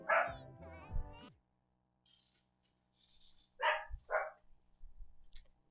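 A pet dog named Siva barks indoors in short yapping bursts, a couple of sharp barks at the start and two more a few seconds later, fairly close, with quiet background hum between.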